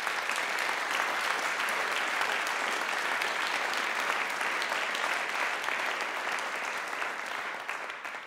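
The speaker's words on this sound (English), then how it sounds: "Maybe we give him an applause for..." An audience at a 9/11 Perspectives master class in Zürich applauds Jörg Schneider, a dense, steady wash of many hands clapping that holds evenly throughout and eases slightly at the end, with no voices.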